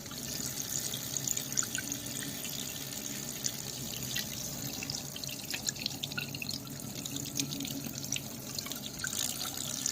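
Water falls onto a spinning jet boat impeller in a simple efficiency test, a soft steady splashing and trickling with scattered drips, fairly faint and without talk.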